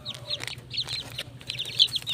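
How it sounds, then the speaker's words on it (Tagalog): One-month-old chicks chirping close by, a dense run of high, quick peeps repeating without pause over a low background hum. "ang ganda ng yung mga sisiw ko, sobrang healthy"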